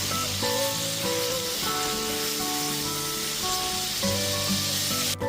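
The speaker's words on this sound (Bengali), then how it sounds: "গ্যাসের ফ্লেমটা মিডিয়ামে করে একটু নাড়াচাড়া করে চিংড়ি মাছগুলোকে ভেজে নেব" Prawns fry in oil over a medium gas flame, producing a steady, close sizzle with a faint tonal hum beneath it and a brief clatter near the end.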